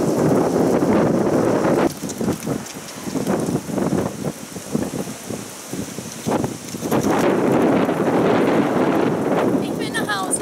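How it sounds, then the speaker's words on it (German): Strong storm wind gusting in a heavy thunderstorm just before hail, a broad continuous roar that surges loud, eases through the middle, then builds again, with a voice speaking briefly over it. "Und jetzt fängt es an zu winden."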